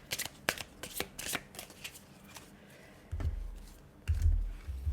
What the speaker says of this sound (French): je vais vous tirer une dernière carte.